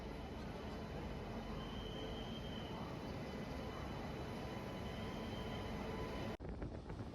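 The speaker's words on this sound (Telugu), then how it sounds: "మన ట్రైన్ అయితే వచ్చేసింది" Train pulling into a busy station on the Secunderabad to Puri route, a steady loud rumble of rolling railcars with faint wheel squeal throughout, ending in a brief break.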